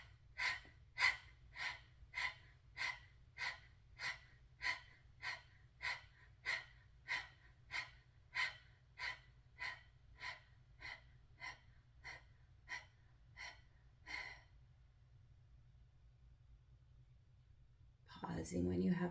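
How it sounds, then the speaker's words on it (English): Kapalabhati breathing: about twenty sharp, forceful exhales through the nose pump out in a steady quick rhythm, close and clear, slowing and fading before a pause and then a long inhale. "And your exhale is pumping your belly with a sigh."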